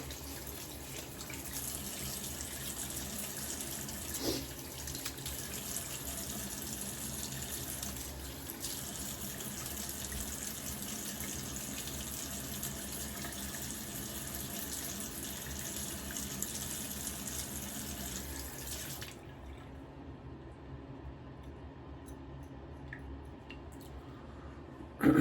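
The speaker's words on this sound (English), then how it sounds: "Getting the razor a little wet here." A razor is rinsed under a running bathroom tap, with a steady close gush of water that runs for about twenty seconds and then stops, leaving a few faint drips and handling noises.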